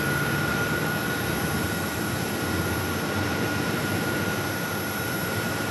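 Steady, loud jet engine roar from a Porter Embraer E2 airliner on arrival to runway 8 at Phoenix Sky Harbor airport, a continuous broadband rumble with a faint high whine, alone without voices.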